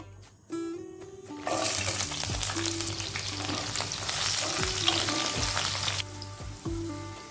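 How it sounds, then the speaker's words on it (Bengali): Ginger, garlic and dried red chillies hit hot oil with a sudden loud sizzle that continues steadily at close range, broken by occasional stirring clinks, then drops off abruptly near the end. "আদা রসুন শুকনো লঙ্কা দু তিন মিনিট আমি লো ফ্লেমে একটু ভেজে নিলাম"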